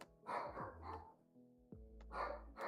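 A dog barks in short, close, loud bursts, several barks in two clusters separated by a brief pause.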